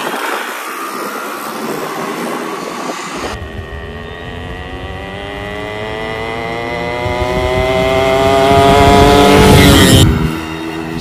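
A Yamaha RX 100 two-stroke motorcycle roars past on a road, its engine note swelling louder as it approaches, peaking near the end, then cutting away abruptly.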